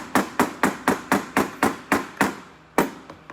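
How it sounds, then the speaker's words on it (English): A hammer or mallet drives a tube into place with about ten sharp, evenly paced taps, close and loud, followed by a couple of lighter knocks after a brief pause. "use a mallet or a hammer. Just hammer it in."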